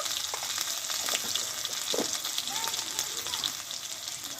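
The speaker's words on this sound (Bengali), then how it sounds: "পুদিনা পাতা ধনে পাতা কাঁচা লঙ্কা বেটে রেখে তেলে এটা আমি ভেজে নেব" Mint leaves, coriander leaves and green chili ground to a paste sizzle steadily in hot oil, a continuous close frying crackle with a few faint clinks of a stirring utensil.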